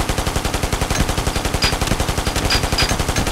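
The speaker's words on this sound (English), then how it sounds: "Press the fire key to fire the machine gun." A fixed machine gun firing in the Ghost Recon video game: a rapid, evenly spaced burst of loud shots that keeps going without a break.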